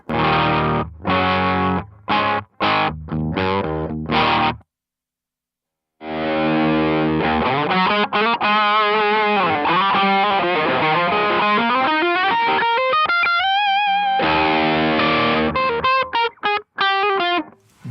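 Clean electric guitar through an Electro-Harmonix Soul Food pedal: choppy strummed chords, a brief silence, then sustained sliding notes with a thick, effected sheen.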